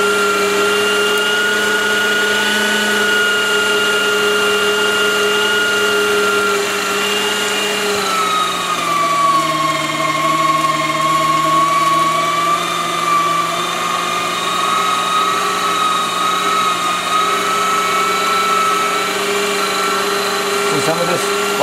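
An electric meat grinder churns pork for bratwurst, a loud continuous motor drone close by whose pitch sags and steadies as the meat loads the blades, running unbroken for the whole stretch.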